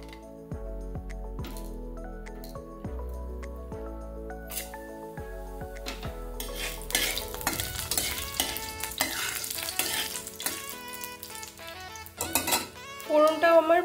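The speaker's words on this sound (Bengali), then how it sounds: "কড়াইতে দিয়ে দিয়েছি হচ্ছে সর্ষের তেল, তার মধ্যে ফোড়নে দিয়ে দেবো হচ্ছে 5 ফোড়ন আর হচ্ছে শুকনো লঙ্কা" A metal spoon clinks against a wok of mustard oil with five-spice seeds and dry chillies, rhythmic scrapes and knocks over a rising sizzle that grows loud and crackling toward the end.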